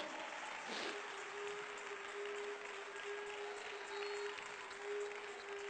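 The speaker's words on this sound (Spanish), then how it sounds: "Fuerte ese aplauso a Cristo." A crowd at a church sermon applauds continuously, a steady wash of clapping heard at a distance, with a faint sustained tone running underneath.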